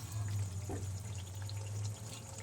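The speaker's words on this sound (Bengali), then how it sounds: "এই মিক্সি বাটি ধোয়া জলটা দিয়ে দিলাম" Rinse water from a mixer grinder jar poured into a pan of Bengali fish curry with spiced oil, a steady near liquid pour that runs for about two seconds over a low hum, with no talk.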